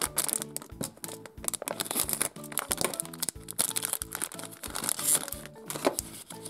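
A My Little Pony plastic toy packet with stamper figures is crinkled and torn open, giving dense, rapid crackling and rustling bursts close by, moderately loud with no speech.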